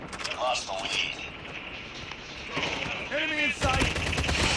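Gunfire in the Call of Duty video game sounds as sharp bursts and rattling shots, mixed with excited voices of players talking over the action.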